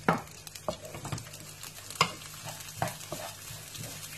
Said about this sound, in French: Je mélange le tout.